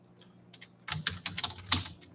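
Fingers tap on a computer keyboard, with a few sparse, quiet keystrokes that give way to a denser burst of rapid typing, close and clear with no talking.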